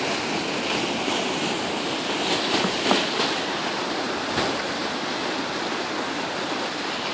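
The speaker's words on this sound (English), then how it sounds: "Water just whirling in." The Moncton tidal bore rushes in as a broad, steady wash of churning water, a continuous close roar of surging flow with no voices.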